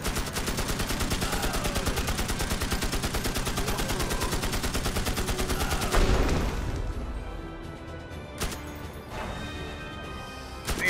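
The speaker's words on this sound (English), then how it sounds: "Firing squad at the ready!" Video game Magicka firing squad gunfire, a loud rapid volley of repeated shots lasting several seconds, then breaking off into scattered crackling impacts and quieter echoes.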